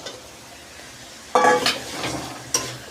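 Boiled chickpeas hit hot oil with spices, giving a sudden sizzle at first contact that settles into steady frying, with a spoon stirring and scraping through the pan and a brief clatter near the end.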